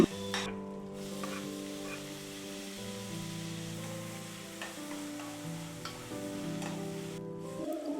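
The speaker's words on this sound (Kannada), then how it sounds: "ಒಗ್ಗರಣೆಗೆ ಇಡ್ತಾ ಇದ್ದೀನಿ ಬೆಳ್ಳುಳ್ಳಿ ಸಾಸಿವೆ ಹಸಿರು ಮೆಣಸಿನ್ಕಾಯಿ ದೆನ್ ಆನಿಯನ್ನು ಟೊಮೆಟೊ ಇದನ್ನ ಸೇರಿಸ್ಕೊಂಡು ಚೆನ್ನಾಗಿ ಫ್ರೈ ಮಾಡ್ಕೋತಾ ಇದ್ದೀನಿ" Garlic, mustard seeds, green chilli, onion and tomato frying together in a pot, a steady close sizzle with stirring scrapes and occasional louder pops.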